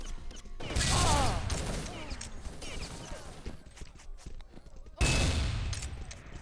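Rapid bursts of gunfire in a competitive team shooter match, with a loud volley at the start and another at the end, busy crackling action in between and faint talk over the top.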